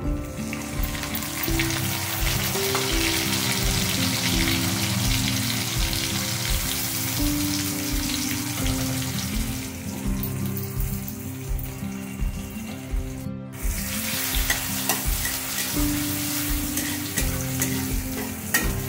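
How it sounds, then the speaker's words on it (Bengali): Garlic paste and onion fry together in a pan, a loud steady sizzle with rhythmic scraping strokes of a spatula repeating through the whole stretch, close and unbroken. "রসুন পেঁয়াজ ফোড়নগুলো সব একসাথে আমি ভাজা ভাজা করে দেবো সুন্দর করে"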